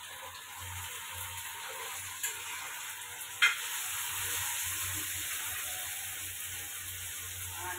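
Tomatoes added to onions frying in a pan for a traditional ridge gourd chutney produce a constant close sizzle, with a couple of brief knocks from the utensil.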